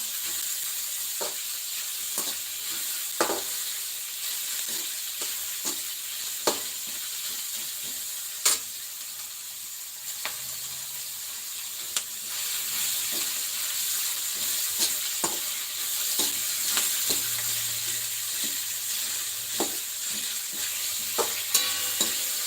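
Onions are roasted in a pan for a chickpea-leaf bhaji, giving a soft, steady sizzle with frequent clicks of stirring and scraping, moderately quiet and close, with no one speaking.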